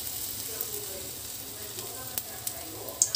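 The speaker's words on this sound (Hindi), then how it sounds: "इसे हम बेसन में डुबो देंगे और इसे हम कढ़ाई में डालेंगे।" Besan-battered bread pieces fry in hot oil in a kadhai, giving a steady soft sizzle with a few small pops and crackles near the end.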